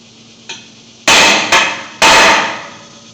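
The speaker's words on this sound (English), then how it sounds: "I've got a center punch here." Hammer blows on a steel center punch marking bolt holes for a custom bumper on a 1977 IH Scout II: one light tap, then three loud, sharp metallic strikes, close and alone.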